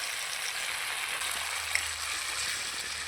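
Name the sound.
grated tomato frying in a pan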